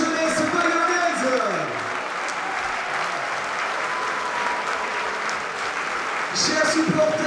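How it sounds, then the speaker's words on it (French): Rugby supporters clap loudly and steadily for young players at the Aviron Bayonnais squad presentation for the 2025/2026 season, a dense crowd applause swelling again near the end while an announcer speaks over it. "Noah Traversier, on applaudit très fort la jeunesse bayonnaise"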